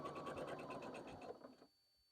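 Sewing machine stitching fabric pieces together in a fast, steady run of needle clatter, close by, stopping abruptly after about a second and a half.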